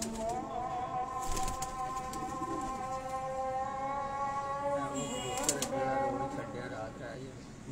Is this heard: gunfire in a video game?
no